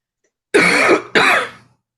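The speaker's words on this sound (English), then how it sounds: "take a big deep breath before you cough" Two harsh, loud coughs in quick succession, close up, with silence before and after.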